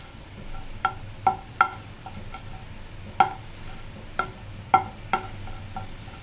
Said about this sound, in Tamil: இதை நல்லா திருப்பி விட்டு நல்லா இதை வறுத்துக்கணும்